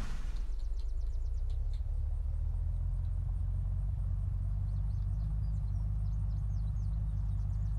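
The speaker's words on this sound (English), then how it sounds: "Let's just use this vehicle until it runs out of gas" Vehicle engine in the survival game Unturned, a steady low rumbling drone that runs loud and unbroken throughout, with no talk over it.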